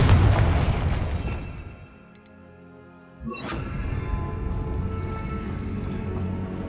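A Confringo blasting spell in Hogwarts Legacy bursts with a loud boom that fades into a brief lull, followed by a rushing whoosh and sustained rumbling game sound.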